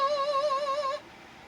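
Short excerpt of the Anacreontic Song, an old popular British tune: a single bright, wavering pitched line with vibrato that holds for about a second and then cuts off into quiet.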